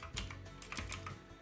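Fingers type a command on a computer keyboard into a Raspberry Pi terminal, a quick run of soft close clicks and taps for a second and a half with no voices.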